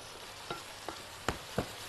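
Cheese melts in a pan with a little milk for a sausage shish pan dish, giving a faint, low sizzle. Four soft taps or scrapes of stirring stand out over it.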